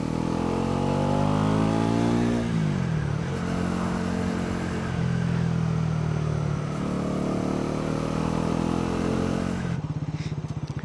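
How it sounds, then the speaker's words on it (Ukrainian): A Bajaj Pulsar NS400 motorcycle engine revving up and dropping back repeatedly, a loud close rumble rising in pitch then settling, ending with a rough idle. "якщо в мене вийшло записати, то я вам запишу і звук двигуна"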